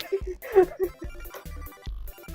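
Cellphone ringtone chiming in a repeating melodic pattern through the whole short stretch, fairly close and clear, heard during a PUBG gaming session with no talk over it.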